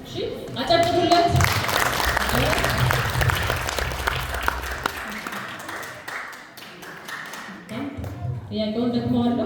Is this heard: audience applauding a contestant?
yes